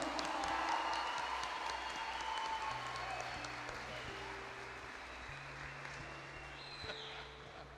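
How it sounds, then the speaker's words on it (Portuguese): A church congregation applauding during a Catholic preaching event, steady dense clapping from a large crowd that slowly tapers, with sustained musical tones underneath. "Então aplauda o Senhor!"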